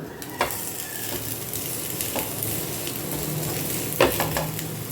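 Rice flour rotti (akki rotti) cooks on a hot tava with a continuous soft sizzle, broken by a few light scraping and clinking touches from a utensil; no talking.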